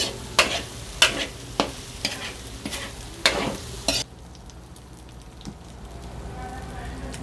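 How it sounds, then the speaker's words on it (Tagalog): Ground meat frying crisply in oil in a pan for spaghetti sauce, a close sizzle broken by several sharp scraping stirs over the first few seconds, then a softer steady crackle. "Pag naririnig nyo na nag-crispy, ibig sabihin, okay na yan."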